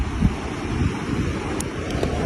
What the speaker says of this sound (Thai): เบิ่งน้ำไหลซ่าๆหนึ่ง เพราะว่าน้ำมันขึ้นสูงแหละมันเลยไหลบ่แห้ง